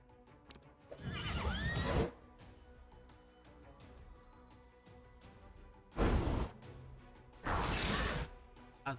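Horse neighs in the video game Pathfinder: Wrath of the Righteous, three loud whinnying bursts separated by quieter stretches of faint battle sounds, with a short thud at the very end.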